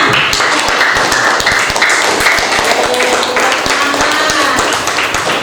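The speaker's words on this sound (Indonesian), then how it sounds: "Nah, tepuk tangan tuh semuanya." A group of people in a class session clap their hands together in quick, overlapping bursts, a dense, steady patter of claps with voices mixed in underneath.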